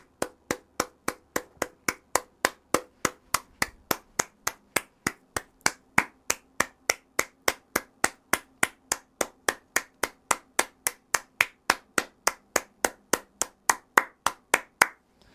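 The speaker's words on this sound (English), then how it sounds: "Really wanted to clap it up for that one, get the point across." One person claps their hands in a slow, steady rhythm, dozens of sharp, evenly spaced claps ringing out close and loud with nothing else around them.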